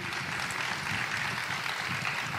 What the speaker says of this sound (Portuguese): Está aí os aplausos aí.